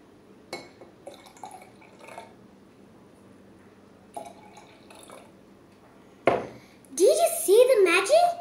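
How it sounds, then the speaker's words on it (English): Purple red cabbage liquid is poured into glasses, giving soft scattered drips and light glassy clinks. A voice speaks loudly at the end. "When I pour this purple potion into these glasses, the color will change."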